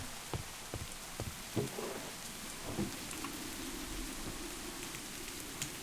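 Steady rain patters in Minecraft over a low background hiss, with scattered heavier drops tapping now and then, fairly close and even throughout.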